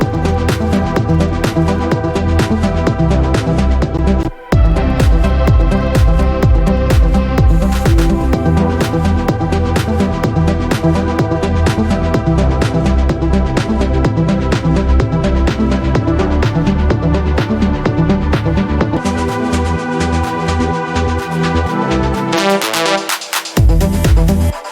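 Drum group in an electronic dance track with high and low filter automation, playing a dense, loud, steady beat with a brief dropout early on and a filtered sweep before the drop near the end.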